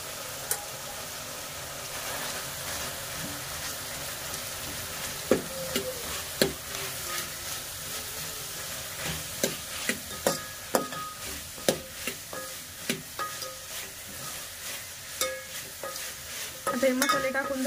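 Black chili powder and Kitchen King masala frying in a pan while a spoon stirs, a soft steady sizzle with repeated sharp scraping clicks of stirring, close and fairly quiet.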